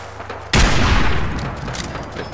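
Enemy gunfire in the Fallout 4 video game erupts suddenly after a brief lull, a loud, dense burst of rapid shots that rattles on and slowly tails off, with no talking.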